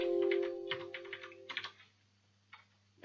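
Close computer keyboard typing in a quick run of clustered key clicks over a steady electrical hum, then a pause and one or two final keystrokes; no talking.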